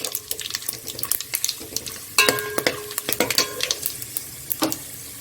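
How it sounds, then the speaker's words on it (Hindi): Bay leaves, shahjeera, black pepper and cloves frying in oil for chicken biryani, crisp crackling pops and spatters with stirring scrapes, close and fairly loud, with a brief louder burst partway through. "2 तेज पत्ते, शाजीरा, काली मिर्च और लौंग। इसको अच्छे से तेल में थोड़ा सा फ्राई करेंगे।"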